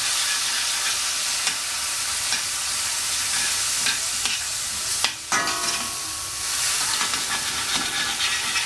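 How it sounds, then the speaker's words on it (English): A frying pan used to cook tilapia sizzles loudly as liquid hits the hot surface for deglazing, a steady hissing crackle with occasional scraping and stirring noises and a brief dip midway. "I'm going to deglaze the pan with, and you just want to get up all of the bits off the pan."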